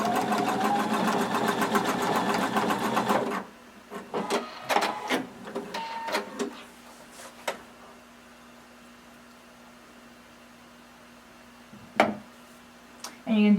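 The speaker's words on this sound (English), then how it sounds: "we're going to zigzag it just so that it stays put" Sewing machine running a zigzag stitch over overlapped elastic for a garment, a loud steady mechanical whir for about three seconds, then short bursts of stitching and quieter gaps with a low hum.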